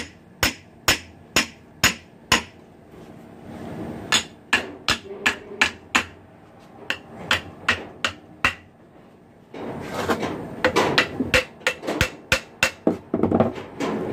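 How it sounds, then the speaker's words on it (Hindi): A hammer repeatedly strikes a donkey pump motor while its bearings are being changed, giving sharp metallic knocks, close and loud, at first in an even rhythm and later in irregular clusters over background noise. "इस तरह इसको हम हथौड़ी से चोट मारेंगे"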